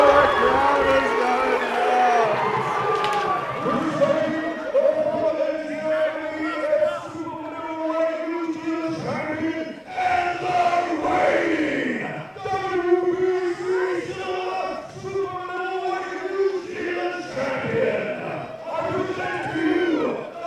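Crowd at a New Zealand boxing title fight roaring and chanting loudly and continuously, with shouted voices rising and falling throughout.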